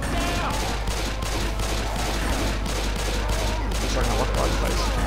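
Dense, loud gunfire fills the Dead Center campaign of Left 4 Dead 2 on Expert difficulty, with rapid shots overlapping into a continuous barrage from start to end.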